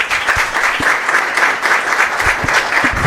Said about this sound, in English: big applause for Andrey